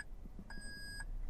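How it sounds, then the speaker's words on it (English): Three short electronic warning beeps from a 2022 Toyota Tundra cabin as four-wheel drive is shifted, one faint chirp, then a clear sustained tone, then another brief beep, fairly quiet over low road hum. "because it's a Toyota product, it's just gonna beep"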